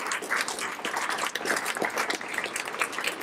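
Applause at a music CD launch for the Ashtavakra Gita, steady fairly quiet clapping from a seated crowd with individual claps showing through, continuous for the whole stretch.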